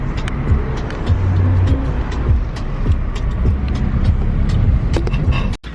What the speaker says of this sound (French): Donc là on est dans la voiture,